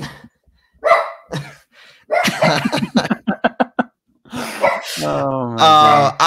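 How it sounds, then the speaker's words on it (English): A dog barks at a wall indoors, a run of sharp, loud barks in quick succession, with people talking before and after. "He's barking at the wall."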